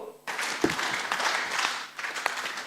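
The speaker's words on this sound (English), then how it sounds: "Let's give them a 4 factorial clap." A conference audience at a county procurement congress breaks into a burst of applause that fades after about two seconds into a few scattered claps.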